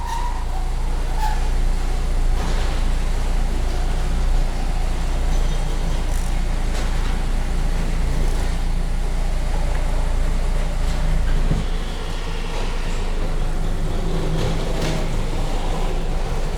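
Continuous low engine rumble of a Mazda MX-5 Miata driving slowly out of a showroom, steady and close, with faint clicks and a slight change in tone near the end.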